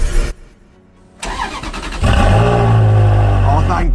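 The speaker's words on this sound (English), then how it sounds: "Will my Ferrari 360 start after not being on a trickle charger and not being driven?" Ferrari 360 engine, left sitting without a trickle charger, cranking briefly and then catching into a loud, steady idle that settles into a strong, sustained drone close by.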